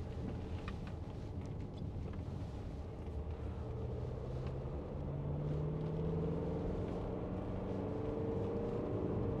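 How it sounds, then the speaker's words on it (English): A 2017 Mercedes-Benz GLC220d AMG Line Premium diesel SUV with G-Tronic automatic and 4MATIC drives through a bend, its engine a steady low rumble with rising tone as revs build, continuous and fairly loud with no talking. "Engine sounds really good."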